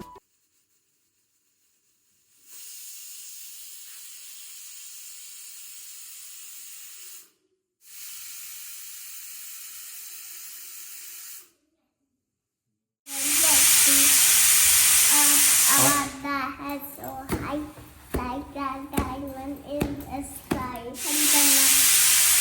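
Steam hisses loudly in bursts from a pressure cooker whistle while cooking vegetables for pav bhaji, with two shorter sprays followed by a long, intense release, then voices talking over it.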